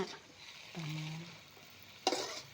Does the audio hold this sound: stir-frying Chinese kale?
yes